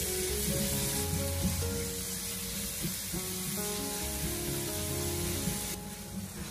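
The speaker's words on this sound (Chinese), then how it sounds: "将剁好的肉末放进锅中，开中小火把它翻炒一下" Minced pork stir-frying in a small amount of hot oil in a wok over medium-low heat, a steady close sizzle with scraping and stirring strokes throughout, no voices.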